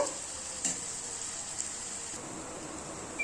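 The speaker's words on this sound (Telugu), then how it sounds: "ఉల్లిపాయలు త్వరగా మెత్తబడతాయండి బాగా ఫ్రై అవ్వాలండి" Onions frying in a pan, a steady close sizzle with a few stirring scrapes, heard alone without talk.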